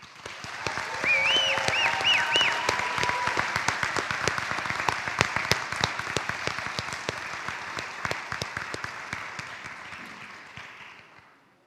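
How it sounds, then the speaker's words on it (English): Audience applause at a white coat ceremony for physical therapy students, a dense sustained round of clapping from a large crowd with a few voices cheering early on, tapering off at the end. "give the students one more round of applause"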